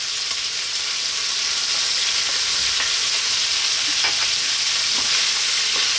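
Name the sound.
onion and garlic frying and being stirred in pan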